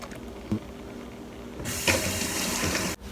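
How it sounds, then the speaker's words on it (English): Water from boiled vegetables strained off in a home kitchen, a soft knock then a steady broadband rush of pouring, draining liquid lasting over a second before cutting off abruptly. "All I do now is just strain off the water"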